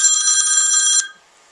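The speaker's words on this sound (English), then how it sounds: "Got a phone call." A telephone rings once in a bright, steady electronic trill lasting about a second, then cuts off to near silence; close and clear, with no talk.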